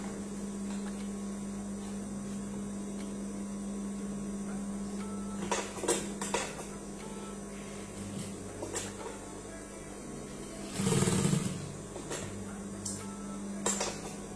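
A sewing machine stitches elastic into a pleated skirt, giving a steady low motor hum with scattered clicks and a louder burst of mechanical rattling near the end. No one speaks.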